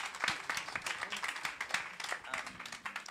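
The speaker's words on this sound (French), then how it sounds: "On applaudit le directeur" Audience applause for a director at a French community event marking 40 years of the March against racism, dense steady clapping from a crowd lasting several seconds with no speech over it.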